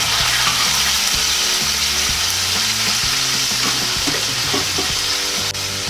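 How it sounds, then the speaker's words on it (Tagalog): Pork sizzles steadily in a pan for ginisang beans with pork, with a dense, continuous fry broken by repeated scraping stir strokes throughout; close and fairly loud, with no voices. "Bali, ipapa-brown ko po muna tong ating pork"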